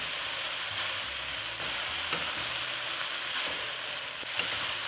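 Beef and broccoli stir-frying in a pan, a soft continuous sizzle with occasional light scraping and stirring taps, fairly quiet and alone.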